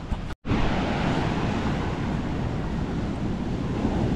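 Strong ocean waves and surf roar continuously and loudly, a dense wash of water with wind noise on the microphone, broken by a brief dropout near the start and otherwise steady throughout.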